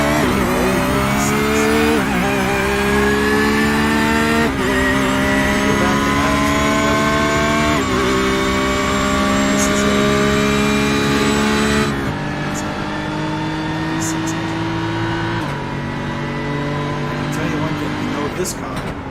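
V8 GT3 race car engine in a racing video game at Sebring, loud and close, repeatedly revving up through the gears with sharp shifts every few seconds, then easing to a lower drone; a voice speaks faintly beneath it.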